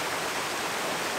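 A forest stream flowing under trees, a steady close wash of rushing water with no other sounds.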